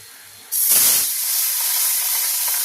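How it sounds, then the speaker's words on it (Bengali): River phasa fish dropped into hot frying oil bursts into a loud, sudden sizzle that settles into a steady, close hiss, with no voices. "এবার আরেকবার মাছটা ভাজছি"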